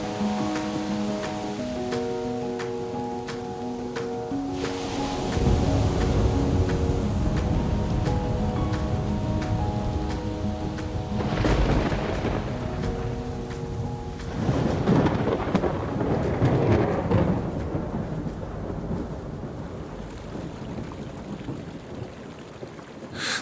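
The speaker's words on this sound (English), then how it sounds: "an unstoppable electrical storm rages nearly 300 nights a year, sending thousands of lightning bolts crackling across the heavens" A lightning storm over Lake Maracaibo in Venezuela, with loud rolling thunder and steady heavy rain. Deep rumbles build and fade over a constant hiss of rainfall, with no talking.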